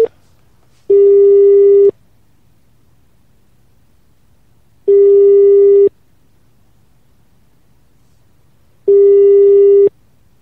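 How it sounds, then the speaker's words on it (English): A telephone call's ringing tone, placed during a live radio show: three steady one-second electronic tones separated by long silent pauses, clear and evenly spaced, with no one talking. "we're going to phone Nazareth, the streets of Nazareth."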